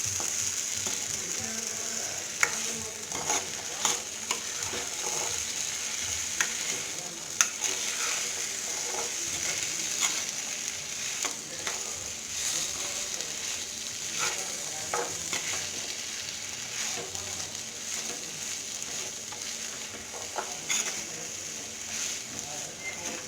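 Black beans masala being mixed in a frying pan, a continuous soft sizzle with repeated scraping and clicking of the spoon against the pan, close and steady throughout.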